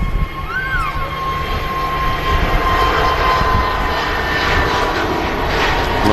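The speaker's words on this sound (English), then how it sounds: "BA on the roll. Spin you guys around for that. Yeah, so this is a 3-year-old A320 Neo." A three-year-old British Airways Airbus A320neo jet roaring down the runway on its takeoff roll at Manchester Airport, a loud, steady engine rumble filling the whole stretch with a faint tonal whine above it.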